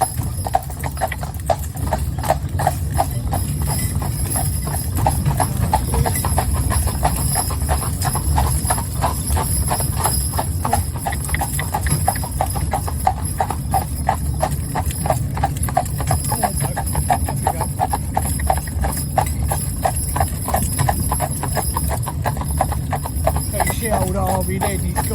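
A horse trotting on a hard surface while being prepped for a wedding, hooves clip-clopping in a brisk, even rhythm close by throughout, with people talking over the steady beat.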